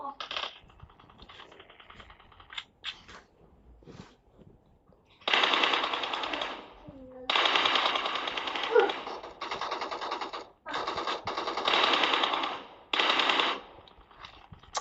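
Video game gunfire comes in long, sharp automatic bursts separated by short pauses, loud and rattling, with quieter clicks and shots before the bursts begin.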